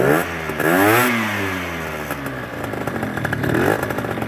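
The 50cc engine of a Peugeot Ludix scooter revs up with a rising buzzy whine, drops back to idle, then climbs again, loud and close with a rattly edge.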